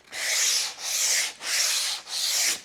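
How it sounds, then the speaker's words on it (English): Sandpaper of 120 grit rubbing along the sharp edge of a wooden board during a DIY camper kitchen build, four steady, even back-and-forth strokes, close and alone with no voices. "again, 120 grit, and just want to take the sharp edge off"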